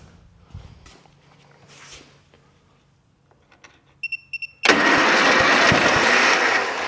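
An old lawn mower or small tractor engine, primed with brake cleaner and a little gas, catches after a few brief cranking beeps and bursts into loud, steady running that continues to the end.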